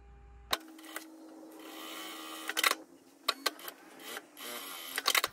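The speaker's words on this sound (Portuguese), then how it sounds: "Vou unir as faixinhas direito com direito e vou costurar." Fabric strips joined right sides together on a sewing machine, heard as close bursts of rapid stitching with short pauses between runs.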